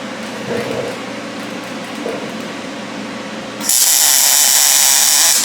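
Electric welding on scrap metal while building a simple pencil holder: a low buzzing hum gives way partway through to a loud, steady, hissing crackle of the arc that holds to the end.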